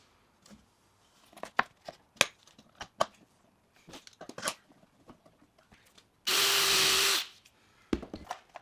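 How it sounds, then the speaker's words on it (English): Drill bores through wood veneers with brad point bits in one loud, steady burst of less than a second, with scattered knocks and handling clatter from the workbench before and after. "next I'll drill them through the veneers"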